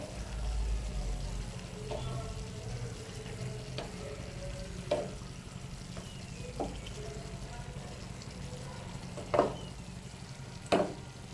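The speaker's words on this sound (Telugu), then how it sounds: "ఇప్పుడు ఈ పేస్ట్ అంతా బాగా కలుపుకుందామండి చికెన్కి పట్టేటట్టు" Ground paste being stirred into boneless chicken curry in a pan, with a soft continuous sizzle under scattered scraping strokes and a few louder clinks of the spoon against the pan.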